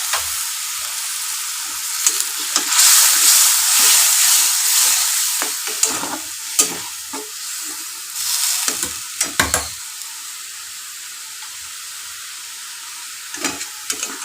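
Spice paste for a chicken curry frying in a pan with a little water added, a hissing sizzle that swells and fades, broken by sharp clinks and scrapes of stirring, with quieter stretches toward the end.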